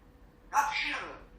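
A talking parrot gives a single sharp sneeze close by, a quick explosive burst trailing off over about a second against a quiet room.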